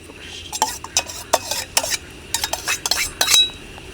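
Crab curry made with giant mud crab, garam masala and fresh cream being stirred in a pan: a quick run of close scraping, clinking spoon strokes in irregular bursts, with no voices.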